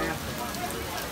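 Steady rain hisses in a dense, even wash of close broadband noise outdoors at Walt Disney World in Orlando, with no distinct drops or pauses.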